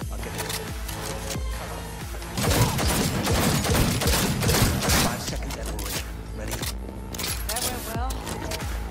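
Rapid gunfire from a gun in Cyberpunk 2077 rattles in dense bursts, growing heavier midway, mixed with mechanical clatter and game effects while someone talks over it.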